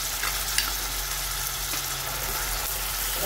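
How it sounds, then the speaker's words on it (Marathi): A ground paste of onion, ginger, coconut, garlic and coriander stems fries in a pan with onion and tomato for misal, making a steady, fairly quiet sizzle with faint stirring taps. "आपण आता हे वाटण तयार केलेलं ते परतून घेऊ।"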